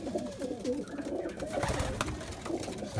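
Pigeons in a loft coo and rustle steadily at close range, with low throaty calls overlapping against a busy background of wings and movement.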